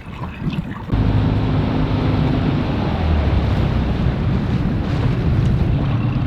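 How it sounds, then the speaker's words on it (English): An outboard motor on a boat runs tilted up through shallow water, producing a loud, continuous rushing roar with wind and water wash and a low engine hum early on, no voices. "I can just hold the motor up like this so it doesn't go as deep"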